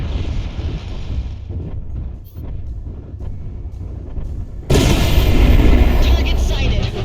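Incoming missiles strike a mech in MechWarrior Online. A rumbling blast roar runs throughout, then a sudden loud explosion bursts in and stays heavy and sustained to the end.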